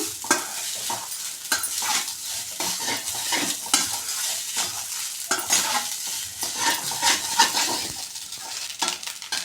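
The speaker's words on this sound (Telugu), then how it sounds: "బాగా కలుపుకున్నాక అలాగే ఒక నిమిషం దీన్ని హీట్ చేద్దాం" A coriander rice mixture sizzles in a pan while a spatula stirs and scrapes it repeatedly. The frying stays close and steady, with no voices.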